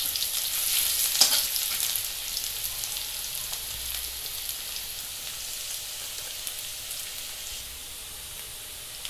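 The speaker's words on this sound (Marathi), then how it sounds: "आपण पाहू शकता कांदा भाजला जातो इथे चांगला।" Chopped onion frying in a pan for vermicelli upma, a steady bright sizzle with a faint crackle that holds close and even throughout with no one speaking.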